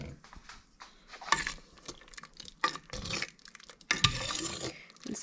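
A pot of homemade vitamin C juice with chunks in it gets stirred, giving intermittent wet sloshes, scrapes and clinks in irregular bursts. The sounds are close and fairly quiet, with brief pauses between strokes.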